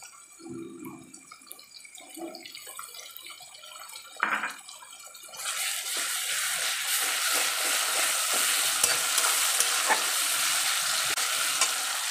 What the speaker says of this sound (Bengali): এবার পেঁয়াজ আদা আর রসুনটাকে আমি 2-3 মিনিট মতন ভালো মতন কষিয়ে নিচ্ছি।